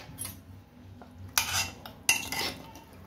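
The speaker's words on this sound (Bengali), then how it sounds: "এবার আমি আপনাদের প্রেসারটা খুলে দেখাচ্ছি" Metal pot and pressure cooker lid handled in a kitchen while cooking meat, with two sharp clanking impacts of metal on metal amid lighter rattles, close and moderately loud.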